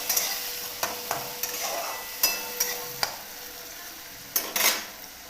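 Onions, tomatoes, cumin and mustard seeds sauté for besan in a pan, a spoon scraping and clinking against the metal in repeated sharp strokes over a steady sizzle, close and alone.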